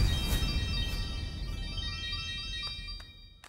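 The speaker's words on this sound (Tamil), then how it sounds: "மேடம் அவங்க தான் கால் பண்றாங்க." A phone rings with an incoming call, a repeating electronic tone pattern playing steadily at moderate volume in a quiet room with no speech.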